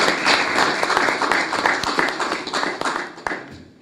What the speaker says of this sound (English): Double clapping.